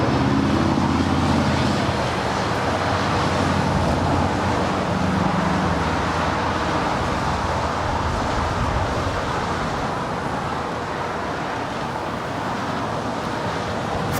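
A Lufthansa Boeing 747-8 arriving at LAX, a broad loud engine roar that holds steady throughout, with a low rumble fading early on.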